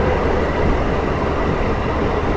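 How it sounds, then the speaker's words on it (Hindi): A local train in Nepal rumbles steadily at about 60 km/h, heard from on board as a loud, continuous rolling roar of wheels and carriage noise with no talk. "जो लोकल ट्रेन चल रही है।"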